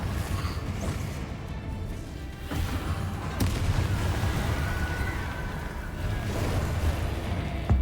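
Loud booming blasts and crackling bursts from a Confringo fire spell in the video game Hogwarts Legacy, repeated over dense continuous combat rumble and effects.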